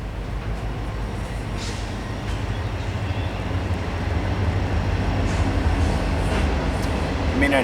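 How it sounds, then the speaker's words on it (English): A small train rumbles past close by, a loud, continuous low roar with scattered rattles that grows slightly heavier as it goes, with no voices heard. "There's the train, of course."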